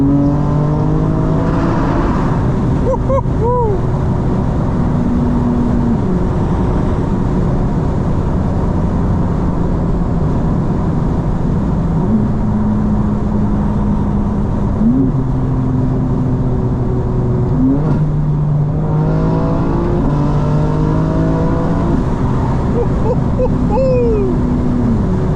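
A 2025 BMW M4 CS accelerates hard in fourth gear, its engine tone climbing steadily with loud, close, continuous revving and a few quick shift dips over the pull.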